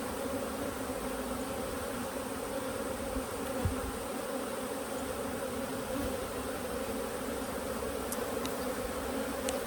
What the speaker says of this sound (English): I don't know if y'all can hear me over the bees